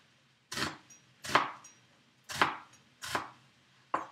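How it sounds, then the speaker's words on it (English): A knife chopping an onion laid flat on a cutting board, five crisp separate thuds at an unhurried rhythm, close and clear with quiet between strokes. "the way I like to cut onion, making sure that it's flat against the cutting board, and just cut along this way first"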